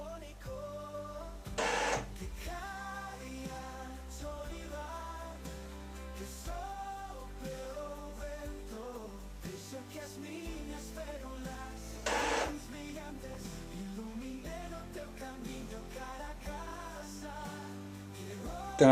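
Epson EcoTank 2814 inkjet printer running a nozzle-cleaning cycle, with steady mechanical whirring and clicking carriage movements throughout, plus a couple of brief louder bursts as the print head shuttles, heard up close with no talking.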